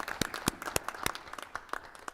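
Scattered hand claps from an audience at a board of education meeting, a handful of sharp distinct claps spaced unevenly across a couple of seconds, fairly faint and sparse rather than a full ovation.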